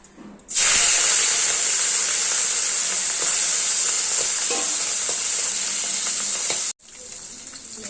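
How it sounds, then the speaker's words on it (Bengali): Hilsa fish heads hit hot oil in a kadai with a sudden loud, steady hissing sizzle that holds for about six seconds before cutting off sharply, leaving quieter background frying. "তেলটা গরম হয়ে গেছে প্রথমে আগে মাথাগুলো ভেজে নেবো"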